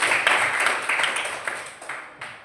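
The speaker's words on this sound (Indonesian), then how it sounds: "beri tepuk tangan untuk kita" Applause from a classroom of students, dense steady clapping with a few louder individual claps standing out near the end, fairly close and filling the room.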